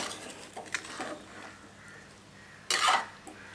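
Prawns being mixed with spice powders, salt and vinegar for a homemade prawn pickle: soft, scattered clinks and scrapes from a bowl and utensil, with one louder cluster of clattering contact near the end.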